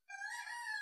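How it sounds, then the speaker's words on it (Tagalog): A rooster crows once, nearby and clear, in a sustained harmonic call that starts abruptly from silence. "Pasensya na kayo sa manok."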